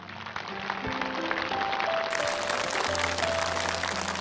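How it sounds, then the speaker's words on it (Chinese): An audience applauds to welcome a guest onto a television talent-show stage, a steady wash of clapping held at an even level throughout, with music tones sounding underneath. "咱们掌声有请"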